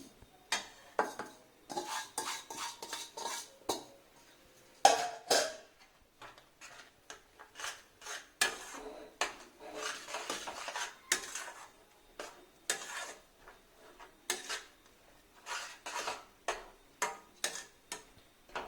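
Coconut and chiroti semolina are stirred in a pan over a low gas flame, a quiet close run of rapid scraping and ticking spoon-on-pan strokes in uneven bursts, with no voices.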